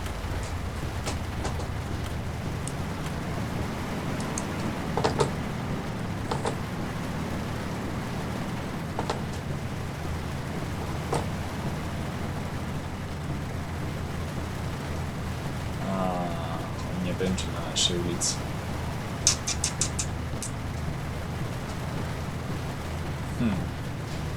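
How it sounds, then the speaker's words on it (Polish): Steady rain falls in a trucking video game, a constant broadband wash with occasional brighter drop spatters and faint distant rumbles, continuous throughout. "Aż przestaje padać."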